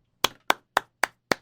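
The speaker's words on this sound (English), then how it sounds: "They get a solid round of applause for that." Hands clap five times at a slow, even pace, each clap sharp, close and distinct, with no other sound around them.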